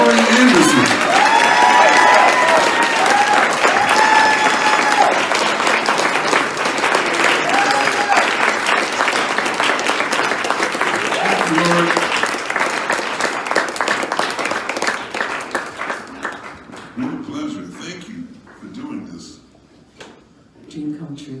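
An audience applauds at a jazz concert, loud and sustained clapping with some cheering for about fifteen seconds, then fading into scattered claps as a voice speaks over the tail.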